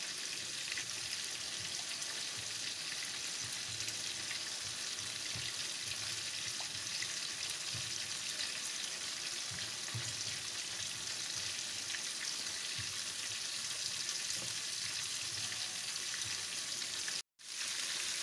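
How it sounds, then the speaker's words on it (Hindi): Garlic paste sizzles steadily in oil in a pan, a continuous close frying hiss with small crackles, running unbroken until a brief cut near the end. "थोड़ा सा मैं लहसुन पेस्ट को पकाऊंगी।"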